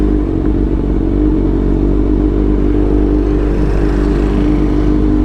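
Kawasaki 600cc big bike heard up close at a loud, steady idle or light throttle, a continuous deep engine drone with mechanical clatter and no speech over it.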